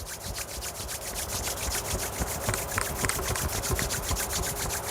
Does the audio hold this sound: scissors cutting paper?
no